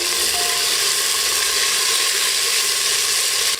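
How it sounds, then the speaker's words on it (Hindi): Chopped onions fry in a pressure cooker with a dense, steady hiss that stays loud and even throughout, with faint clicking stirs beneath. "इसमें डाल दें कटे हुए प्याज"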